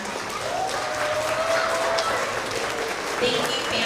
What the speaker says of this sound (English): everyone give a clap to all the parents and families and friends here